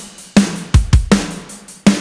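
Programmed IOF Drummer drum pattern layered with blended kick and snare one-shots plays a sparse, punchy groove, with deep kicks and sharp snares hitting in a steady beat, dry and close.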